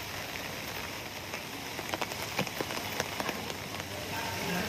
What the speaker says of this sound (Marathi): आज दिवसभर कल्याण डोंबिवली परिसरात मुसळधार पाऊस होतोय.